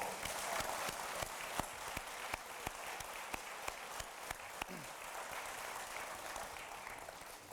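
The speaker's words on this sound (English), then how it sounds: "The graduates deserve a big round of applause for your achievements." Applause for graduates at a graduation ceremony rolls on steadily from a sizable audience, a continuous far-spread patter of many hands with a few sharper nearby claps punctuating it.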